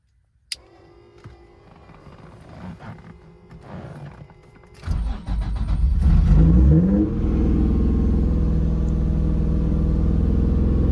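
A Nissan 350Z engine cranks with a starter whir after a fuel pump assembly upgrade, then catches and settles into a loud, steady idle roar, close by.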